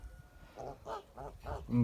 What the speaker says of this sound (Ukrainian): Ось це молоденька, до речі, гусочка